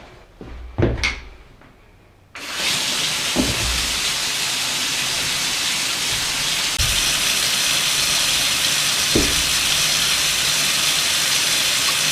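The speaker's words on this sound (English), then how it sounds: "There is a plug in and I'm just adding an inch of water." Tap water pours steadily into a plugged bathtub to fill it about an inch deep for watering houseplants, a constant rushing hiss that begins abruptly after a few quiet knocks and runs on unbroken with occasional soft thuds.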